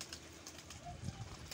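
Pigeons in a Dubai park give a brief, faint, soft coo against quiet background noise.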